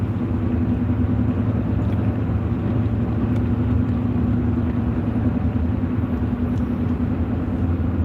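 A car engine drones steadily while driving at night, a loud, even low rumble with road noise that holds without letup throughout, no voices over it.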